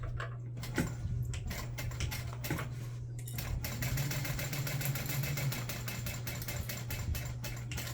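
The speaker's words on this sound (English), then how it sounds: "sew that side with a 1/4 inch seam allowance" Sewing machine stitching the side seam of a bag with a quarter-inch seam allowance, running steadily with a fast mechanical needle rhythm and a low motor hum, close up, with a brief pause near the start.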